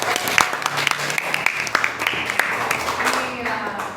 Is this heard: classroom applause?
yes